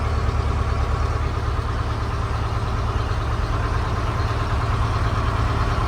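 2011 Cessna Skycatcher light aircraft engine running steadily at idle, a constant close, even droning rumble with no speech over it.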